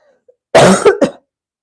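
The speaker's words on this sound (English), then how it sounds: "My throat is starting again, like I'm gonna have to cough." A single harsh cough, a couple of rough bursts close to the mic, followed by quiet.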